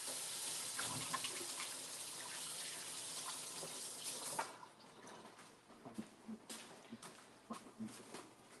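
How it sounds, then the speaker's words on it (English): Tap water runs steadily into a kitchen sink as fingers are rinsed, a continuous broadband splash that breaks into uneven drips and splatters after about four seconds. "Let me rinse my fingers."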